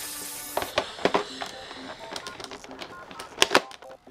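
Nerf Elite standard foam darts are pushed one by one into a blaster magazine, giving a run of sharp plastic clicks and snaps in an uneven rhythm, close and fairly quiet.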